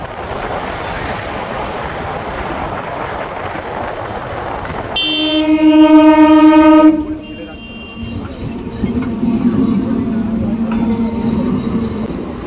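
Train passing at the Shaktigarh railway crossing: a loud steady rumble of wagons, then a long blaring horn for about two seconds, followed by continued rolling noise nearby.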